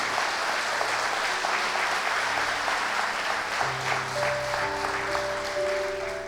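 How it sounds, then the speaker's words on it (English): At a motivational speaking event in Sudbury, Ontario, an audience gives sustained applause, a thick wash of clapping from a large room with sustained musical tones rising underneath. "Give them a round of applause, please,"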